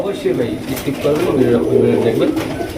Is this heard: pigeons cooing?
yes